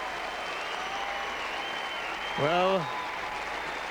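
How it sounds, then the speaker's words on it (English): A large arena crowd applauds a figure skater after his men's short program at the 1994 Lillehammer Winter Olympics, a steady dense roar of clapping with a commentator's voice over it. "A marvelous reception from the crowd"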